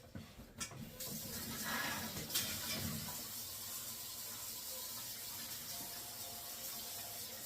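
Tap water runs steadily into a pressure canner, a close, continuous rushing splash that grows fuller after the first couple of seconds and then holds an even level, with no talking.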